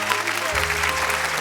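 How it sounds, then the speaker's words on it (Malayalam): A studio audience on a children's television show bursts into applause, a busy clapping texture with a low sustained musical tone underneath that shifts partway through. "നല്ലൊരു ക്ലാപ്പ് വേണം അതിന്."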